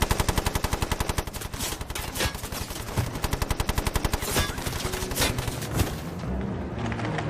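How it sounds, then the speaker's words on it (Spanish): Bren light machine gun firing long, rapid bursts of evenly spaced, loud, close shots that continue almost without pause, with a short break before the shooting resumes. "Su frustración fue palpable, ya que cogió la ametralladora Bren. Kane comienza a disparar."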